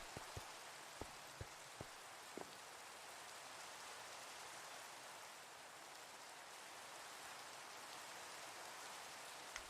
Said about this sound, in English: Not very often do I run into rain in Minecraft.